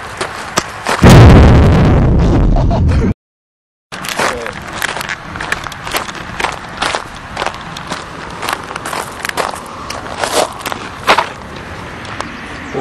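Coke and Mentos erupt and catch fire, with a loud rushing burst that cuts to a brief silence, followed by a stretch of crackling, popping noise and sharp knocks.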